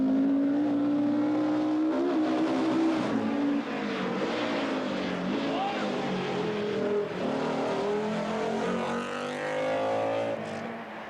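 A 1987 Circuit of Ireland rally car engine drones loud and close, its pitch rising and falling as it accelerates and shifts, with a steady roar throughout and no voices.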